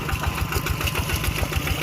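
A tractor plowing a rice paddy chugs steadily with a rhythmic low knocking pulse, close and loud, with no other sounds over it.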